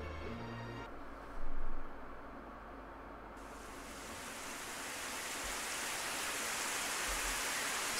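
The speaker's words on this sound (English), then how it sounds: "Suddenly, it started raining, as if it had forgotten how to stop." Steady rain falls in a visual novel scene, heard as a broad, even hiss that swells in partway through and then holds loud and continuous, with no voices.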